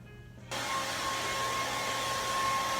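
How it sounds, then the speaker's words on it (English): Hair dryer switched on abruptly and blowing steadily at close range with a constant whooshing roar and a faint tonal whine, while hair is blow-dried; no speech. "Do y'all wanna watch me like blow dry my hair for a second?"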